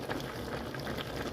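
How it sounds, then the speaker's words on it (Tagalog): Broth bubbling and simmering steadily in a pot of ginataang gabi with bagungon, a soft continuous bubbling at low volume with no talk. "pakuluan lang hanggang sa kumunti na ulit ang sabaw"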